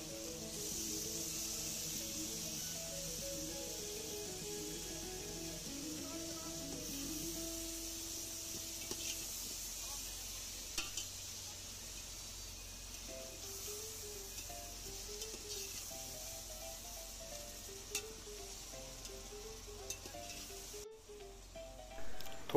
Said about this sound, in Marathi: तर आता आपण चांगल्या प्रकारे धुतलेले शिंगाड्या माशाचे पीसेस तेलामध्ये शिजण्यासाठी टाकत आहोत।